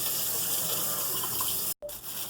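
Tap water gushes steadily into a pot for boiling string beans, a loud, close, continuous pour that cuts off abruptly for a moment and then resumes.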